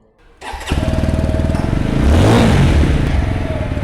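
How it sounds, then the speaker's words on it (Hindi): A TVS Apache 160 4V motorcycle fires up after a brief starter whir, then its exhaust settles into a steady, deep idle that swells briefly as the throttle is blipped, close and loud with no talking. "चलिए इसकी जो एग्जॉस्ट साउंड है वो भी मैं आप लोग को सुना देना चाहूँगा"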